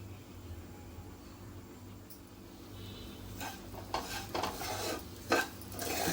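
Semolina and grated coconut stirred and roasted in ghee in a pan, with soft scraping and spoon clinks against the metal and a faint sizzle underneath, getting busier toward the end.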